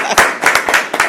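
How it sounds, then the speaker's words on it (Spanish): Hands clap in quick, brisk bursts at a talk on Spanish genre fanzines, a short round of applause filling the room. "Un aplauso, por favor, para Julio."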